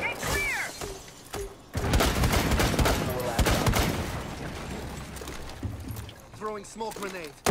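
Explosive blasts and crackling detonations from Fuze's cluster charge in the tactical shooter Rainbow Six Siege, a dense, loud burst of repeated impacts over several seconds, with voices talking before and after.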